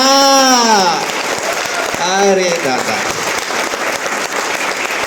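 An audience in a hall claps in a busy, sustained patter, loud and close, while a man's drawn-out voice rises over it at the start and again midway.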